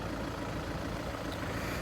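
A Renault Megane 2-litre diesel engine idles close by, a dense, steady, even rumble with no change in pitch and no talking over it.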